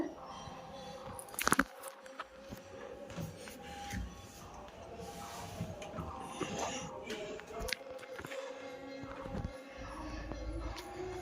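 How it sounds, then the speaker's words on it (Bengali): Cooked pointed gourd in a yoghurt gravy being eaten, with soft, close, faint chewing and bites plus light mouth and handling noises throughout. "দেখি খেয়ে দেখি কেমন হয়েছে পটলটা কি সফট হয়েছে"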